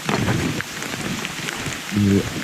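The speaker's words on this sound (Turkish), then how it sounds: "Yağmurda görüyorsunuz." Steady rain patters at a seaside campsite in Marmaris, a dense close hiss of drops on surfaces throughout, with a brief low rumble near the end and no talk.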